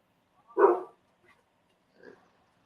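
A dog lets out one short, gruff bark, close and fairly loud, followed after a pause by a softer, brief second sound in otherwise near silence.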